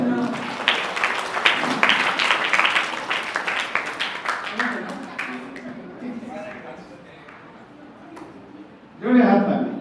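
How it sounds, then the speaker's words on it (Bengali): An audience at a students' Mahalaya Agomoni programme claps in dense, continuous applause that slowly thins and fades. A voice then speaks loudly into the quiet. "জোরে হাততালি গোপাদিদির জন্য"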